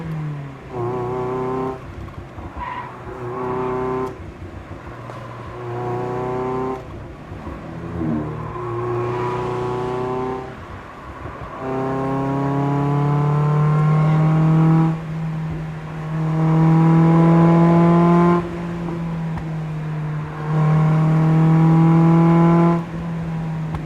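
A Mazda Miata's engine revs and accelerates repeatedly on a winding mountain road, heard loud from the cabin, with rising pulls broken by short gaps at the gear changes.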